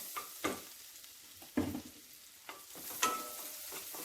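Spring onion whites stir-fry in a pan while hot and sour chicken soup is being made, with a soft sizzle broken by several distinct spatula scrapes and knocks, no voices.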